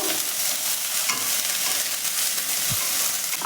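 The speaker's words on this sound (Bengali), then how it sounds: "আদা রসুনের পেস্টটা দিয়ে দিলাম আদা রসুনের কাঁচা গন্ধটা যাওয়া পর্যন্ত এটাকে একটু কষবো" Ginger-garlic paste sautéing in a pan for a Kerala-style masala egg roast, giving a steady close sizzle with soft scraping of stirring throughout and one brief low knock near the end.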